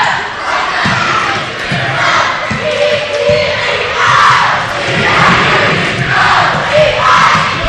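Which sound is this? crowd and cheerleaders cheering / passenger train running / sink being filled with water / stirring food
crowd and cheerleaders cheering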